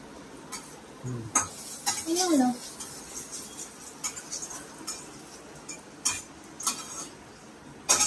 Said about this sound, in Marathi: त्याच्यामध्ये राईची फोडणी द्यायची.